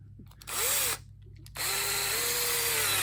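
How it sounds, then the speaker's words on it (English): A power drill boring into a block of wood whirs in two bursts, a short spin then a longer steady run, close and loud with a rising motor whine. "I'm going to drill a hole into this block of wood"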